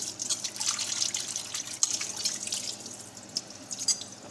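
Water drips and trickles in a sink while dishes are washed by hand with soap, a steady bright patter of small splashes close by, no speech.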